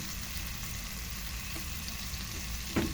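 Garlic and onion cook in melted butter in a pan, making a faint, even frying hiss close by with a low background rumble and one small clink near the end.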